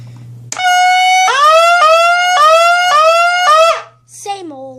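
An MS-190 fire alarm under test sounds a loud, close electronic tone that steps up in pitch in repeated pulses for a few seconds, then cuts off with a short fading chirp.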